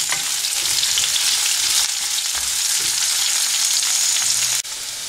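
Ginger garlic paste sautéing in a hot oiled pan for Andhra-style prawn masala, a loud steady sizzle with faint stirring scrapes, close up and without voices.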